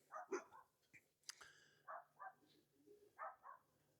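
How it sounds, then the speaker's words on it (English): Neighboring dogs barking near a backyard pigeon loft: several faint, distant barks and yips in irregular bursts, with a few scattered knocks and bumps in between. "You'll have to forgive the dogs. They are the neighbors and they're noisy."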